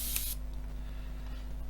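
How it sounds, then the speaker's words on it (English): An airbrush sprays paint onto an Airfix 1/24 F6F-5 Hellcat model aircraft in one short, loud hissing burst, then cuts off, leaving a low steady hum. "again spraying away from the masking tape"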